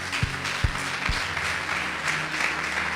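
A church congregation applauds during a sermon, a few louder claps near the start giving way to a steady, dense wash of clapping from a crowd across the room.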